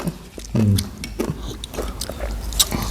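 Sweet coconut flesh in coconut milk being chewed up close, with soft wet bites and mouth sounds in a short burst, then quieter chewing mixed with faint background noise.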